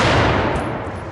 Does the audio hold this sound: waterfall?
no